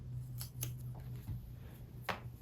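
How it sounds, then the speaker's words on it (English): Scissors make a few crisp snips through upholstery cording during a chair makeover. The close cuts are spaced irregularly over a low steady hum. "So I'm gonna pull some of this cording out and just cut it down short"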